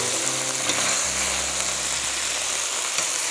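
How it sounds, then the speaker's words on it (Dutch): Fish heads and pieces hiss and sizzle in a hot pan for bouillabaisse, a steady close frying noise with a low hum underneath and no talk. "Onze vis is de volgende stap. Die gaat er nu in. Dit is de koppen en alles."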